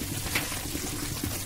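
Water poured into a cooking pot while making lauki kofta, a steady soft trickling wash running throughout at moderate level, with no talk over it.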